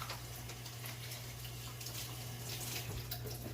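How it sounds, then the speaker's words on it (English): Hands rinsed of greasy butter under a running kitchen tap, a steady, fairly quiet stream of water splashing throughout with no talking. "Let me just rinse my hands from that greasy butter."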